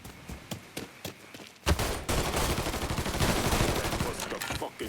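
Gunfire from the Mafia 3 video game: a few sparse shots at first, then a sudden loud burst opening into a dense, sustained fusillade of rapid shooting that carries on steadily to the end.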